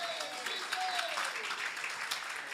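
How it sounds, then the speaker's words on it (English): A church congregation clapping together at a revival service, a short burst of fast, dense applause heard at a moderate distance in a reverberant hall. "So clap to Jesus."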